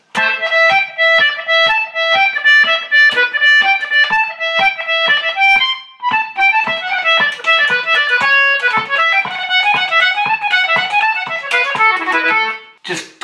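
Traditional folk tune on a melodic instrument with the final two bars of a jig recast as a reel, a dense, continuous run of bright notes climbing to a high C near the end, played alone without talk.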